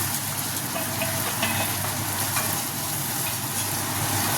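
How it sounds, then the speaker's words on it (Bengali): Spice paste with turmeric water sautéing in oil in a pan over medium heat, a dense, steady, close sizzle with faint stirring ticks throughout and no talk. "মশলাটা আস্তে আস্তে কষিয়ে নিচ্ছি, মিডিয়াম আঁচে করলে ভালো হবে।"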